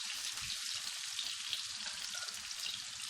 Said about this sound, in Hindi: बैंगन हमारे फ्राई हो चुके हैं।